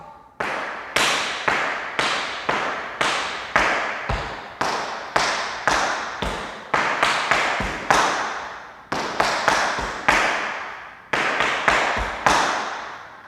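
Tap shoes strike the floor in quick, crisp shuffle, step, heel, step groups, repeating in a steady rhythmic pattern with short pauses between phrases.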